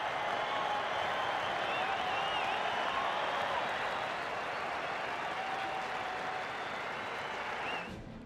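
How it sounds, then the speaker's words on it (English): A Test cricket crowd at the WACA in Perth applauds and cheers Mitchell Johnson in a steady, dense roar of clapping that holds for several seconds before dropping off abruptly at the end. "Mitchell Johnson will get a huge cheer from the WACA"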